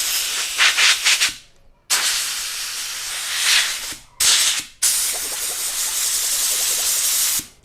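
Loud bursts of hissing compressed air blown through a motorcycle air filter in three long blasts separated by short pauses, close and forceful.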